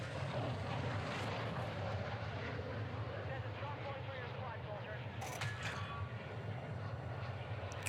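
A steady propeller-plane engine drones during the plane jump in Warzone 2, a continuous broadband roar at low level with a few brief clicks near the end.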